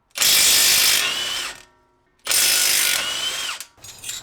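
A power ratchet or impact wrench spinning off 19 mm bolts on a 2022 Subaru WRX suspension, in two loud buzzing bursts of about a second and a half each, separated by a short gap, with a third starting at the end.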